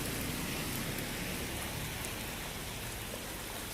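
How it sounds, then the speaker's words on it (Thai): Steady, dense downpour of heavy rain hissing evenly across surfaces, continuous and unbroken with no voices. "วันนี้ฝนตกหนัก"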